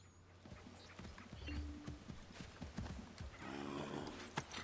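Horse hooves gallop in a steady clip-clop rhythm in Assassin's Creed III, mid-loud and close, with a short tonal hum partway through and no talk.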